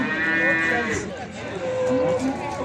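Young female calves at a Beyləqan livestock market low twice in succession, close and clear, the second moo following a brief pause, with a voice faintly in the background.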